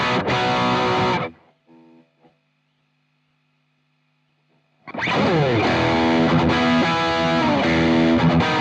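Dry guitar played through a Boss Tube Amp Expander with the air feel switched off: a loud distorted chord rings and cuts off, a few quieter notes follow, then after a silent pause a dense, loud distorted riff returns.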